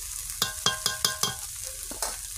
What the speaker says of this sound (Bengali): এটা একটু গুঁড়োটা ভাজা হোক